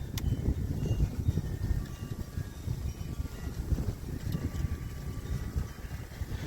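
Strong outdoor wind buffeting the microphone at an archery range while a bow is being sighted in, a continuous low gusty roar rising and falling with no voices.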